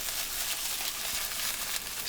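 Mackerel hitting a hot frying pan gives a loud, fierce, steady sizzle that hisses without pause the whole time.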